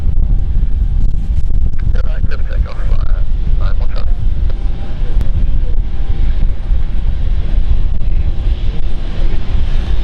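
Loud, roaring Embraer 190 jet engines spooling up at London City Airport rumble and whine steadily with wind buffeting the microphone, while a voice speaks briefly near the start.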